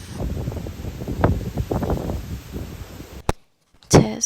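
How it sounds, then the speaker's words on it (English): Outdoor wind buffets the microphone in uneven rushing gusts and rustles for about three seconds, then cuts to near silence before a brief final burst. "Windy."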